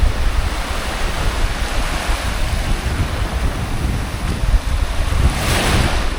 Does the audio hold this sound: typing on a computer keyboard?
no